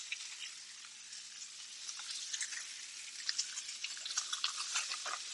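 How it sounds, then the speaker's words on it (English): Unsalted butter melts in a hot pan beside steak, a soft high crackling sizzle with scattered spits and pops that grow busier toward the end, close and fairly quiet, no talk. "Move it around the pan so that it melts quickly and dissipates the heat"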